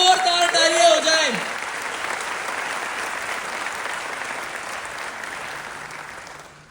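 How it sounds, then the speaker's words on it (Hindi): A crowd breaks into loud applause right after a short vocal phrase, dense clapping that holds steady and then slowly fades over several seconds. "एक बार जोरदार तालियां हो जाए"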